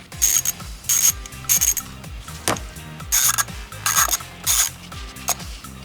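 Hand ratchet working the oil filter cap bolts off a Can-Am Outlander 850 XMR, repeated bursts of fast pawl clicking between back strokes, close up and crisp, with one sharp metallic clink midway and no voices.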